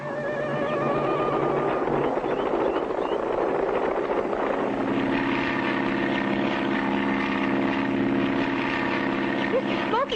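A cartoon propeller plane in flight drones steadily and loudly, its engine tone thickening into a stronger, buzzing hum about halfway through and holding there to the end.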